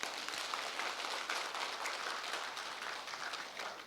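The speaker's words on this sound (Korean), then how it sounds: "박형주 교수님께 다시 한번 힘찬 박수 부탁드리겠습니다" Audience applauding at the close of a lecture on the digital age, a dense, steady clatter of many hands in a hall that carries on evenly for several seconds before thinning slightly at the end.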